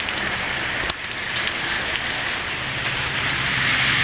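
Steady rain falls outdoors in South Lyon, a dense, even hiss of drops on surfaces that holds constant throughout with no voices.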